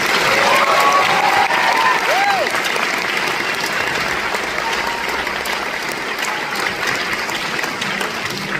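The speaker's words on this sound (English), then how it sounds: "let's give these students another round of applause" An audience gives sustained applause for students at a high school concert, a dense steady wash of clapping from a large crowd with a few faint shouts and whistles mixed in.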